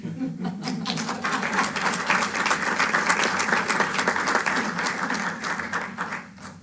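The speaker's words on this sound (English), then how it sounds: "y'all could clap" A room of people applauding at a county Board of Supervisors meeting honoring Rotary, a dense, even round of clapping lasting several seconds before it tapers off.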